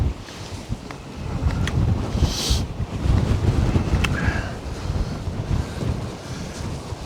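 Strong wind buffets the microphone on a Shetland shore at Unst, with breaking surf rumbling steadily underneath; the gusts swell and ease throughout, loud and continuous, with no one talking.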